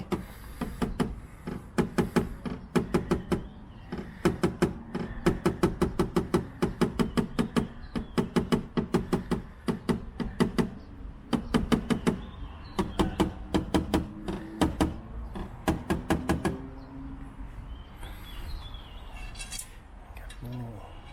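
Rapid bursts of light metallic tapping as a raised dent is knocked down during car body dent repair, repeated in clustered runs for most of the stretch, with brief pauses between and quiet talk near the end.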